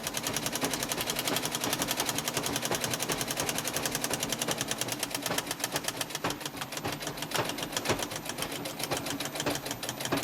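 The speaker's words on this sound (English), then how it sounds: "I'm going to zigzag stitch this down, and I do kind of a medium tightness on the stitch" Domestic sewing machine running a wide, medium-tension zigzag stitch to sew a patch down, a loud, steady rapid needle rhythm held continuously with no pauses and no talking.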